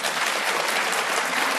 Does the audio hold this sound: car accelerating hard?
no